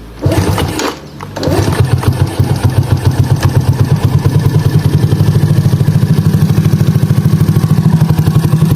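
A Jupiter Z motorcycle with a moto1 block is kick-started, a couple of cranking thumps before the engine catches and settles into a loud, close, fast steady idle rattle.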